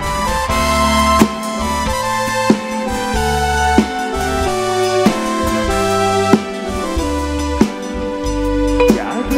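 A band plays a live song about emigrants at an event in San Andrés Xecul, with full instrumentation, a strong bass, and a steady rhythmic beat, loud and continuous.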